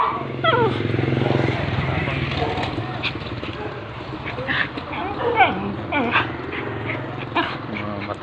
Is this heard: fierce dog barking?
yes